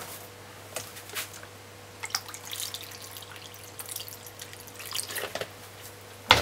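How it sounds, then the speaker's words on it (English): Tap water trickles and drips into a bowl to soak cabbage for a cabbage and salt-fish dish, a quiet, uneven run of splashes and drops with a sharper burst near the end. "Fill up the water to the top."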